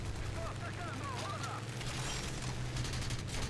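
Aircraft cannon fire in the War Thunder video game, a dense rattling burst of gunfire over a steady engine drone throughout, with a player talking faintly underneath.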